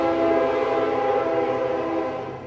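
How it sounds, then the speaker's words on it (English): A train rolls past a residential excavation site where a sewer line is being dug, its steady loud rumble and tonal horn-like hum filling the whole moment without anyone talking. "and there goes the train"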